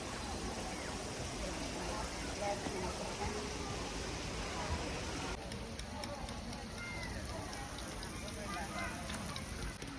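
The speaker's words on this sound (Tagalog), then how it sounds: "Ang ganda ng sprinkler niya." A garden water sprinkler sprays steadily outdoors, giving a continuous broadband hiss like rain that runs through the whole stretch, with a brighter, finer spray texture in the second half and voices faintly present beneath.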